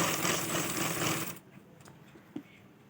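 A sewing machine stitching lace onto a hem, running in a fast steady whir for over a second, then stopping, followed by a few faint clicks and taps nearby.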